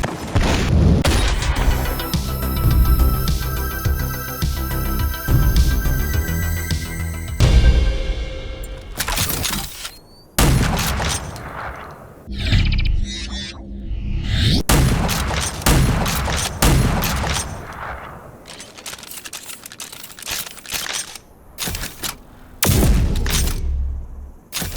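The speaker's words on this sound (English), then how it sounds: "More shotguns!" Shotgun blasts from a first-person shooter game, Rage 2, boom repeatedly in loud, heavy bursts with pump and reload clatter between shots, firing at an irregular pace across the stretch.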